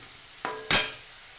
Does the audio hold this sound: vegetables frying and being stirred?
yes